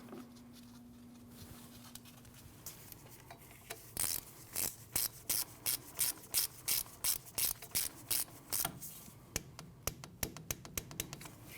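A ratchet tightens the 10mm bolt on an ABS speed sensor in the steering knuckle of a 2012-2016 Honda CR-V, giving a long run of quick, evenly spaced clicks up close after a quieter start, with no talking.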